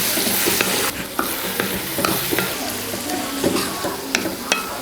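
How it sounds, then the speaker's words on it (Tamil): Shallots, ginger and curry leaves sauté in a pan for a traditional Tamil mor kali, a steady close sizzle broken by sharp scraping clicks of a spoon stirring against the metal. "இப்போ எல்லாமே நல்லா வதங்கி வருது"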